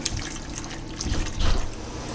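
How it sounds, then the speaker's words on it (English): Starchy pasta water poured into a pan of Alfredo sauce, a steady close splashing trickle that swells briefly midway, with no voices. "I'm going to pour a little bit of my pasta water in here"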